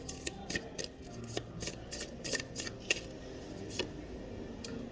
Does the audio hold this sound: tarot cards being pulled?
yes